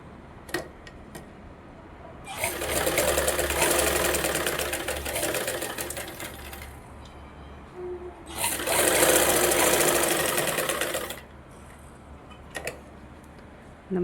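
Sewing machine stitching the edge of a lining blouse, running in two loud bursts of rapid stitching separated by a pause, with quiet handling sounds between.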